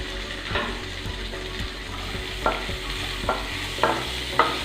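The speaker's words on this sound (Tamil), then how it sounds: "லேசாக வதக்கிக்கிறேன்." Cumin seeds, fennel and coconut pieces sautéing in a pan for a Meen Kuzhambu fish curry, with a steady low sizzle and a few sharp scrapes of a spoon stirring, close and alone.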